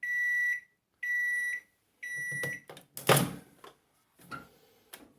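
A microwave oven finishes with three evenly spaced beeps, followed by its door clicking open and some handling clatter nearby, all fairly quiet.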